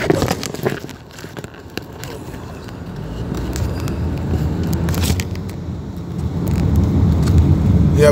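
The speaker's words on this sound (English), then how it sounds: "we just driving, so you know the car shaking up" A car drives along a road, its cabin rattling and shaking with a low rumbling drone that builds steadily louder toward the end, with brief crackles and no clear talk.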